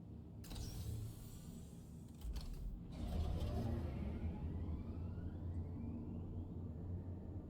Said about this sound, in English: Careful, doors are now closing.